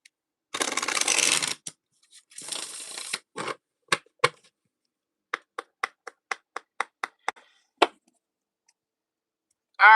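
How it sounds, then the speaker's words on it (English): Deck of reading cards being shuffled up close, first in two bursts of riffling, then a run of sharp separate taps and snaps as the cards are squared and dealt, with quiet gaps between. "I'm gonna shuffle once because I don't remember."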